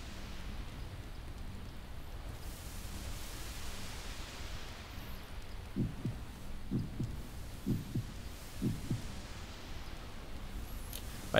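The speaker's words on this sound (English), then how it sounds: "I can definitely still hear that heartbeat around somewhere." A heartbeat echoes through a haunted manor in the Second Life game, four soft double thumps arriving in a steady lub-dub rhythm over a low ambient hum, with no talking.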